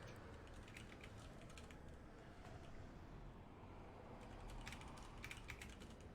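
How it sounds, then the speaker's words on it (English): Computer keyboard typing during a World of Warcraft raid, faint scattered key clicks in short bursts over low background hiss, with no one talking. "I was typing"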